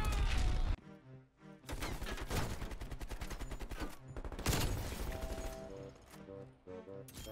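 Repeated heavy ZRG 20mm sniper rifle shots in Black Ops Cold War, loud booming reports spaced a second or so apart with dense gunfire and explosions around them, no talk.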